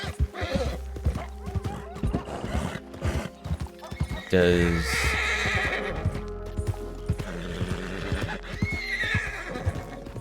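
A horse in the Red Dead Redemption 2 video game gallops with rhythmic clip-clop hoofbeats, letting out a loud whinny midway, while someone talks over the game sounds.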